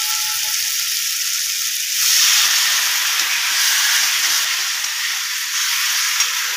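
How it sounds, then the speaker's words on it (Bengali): Water is poured into a hot fish curry gravy, setting off a loud, steady hissing sizzle of steam that swells briefly and then holds a broad, even level. "এবার ঝোলটায় জল ঢেলে দেবো"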